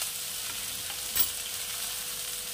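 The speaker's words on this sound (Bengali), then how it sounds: "এবার এটাকে আমি ভাজা ভাজা করবো" Chili powder and freshly ground roasted cumin fry in a hot pan for a Bengali drumstick-and-poppy-seed dish, giving a steady close sizzle with one brief clink partway through.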